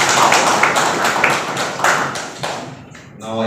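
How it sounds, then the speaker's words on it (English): Dense applause from a large audience at a formal ceremony in War Jaintia, Meghalaya, a sustained wash of many hands clapping, loud and close, tapering off at the end. "a huge round of applause for all of you"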